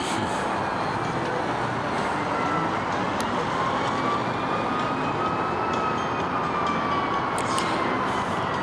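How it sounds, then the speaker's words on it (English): A fire truck siren wails at a distance, its rising and falling tone faint over a steady rumble of traffic and road noise. "I hear sirens."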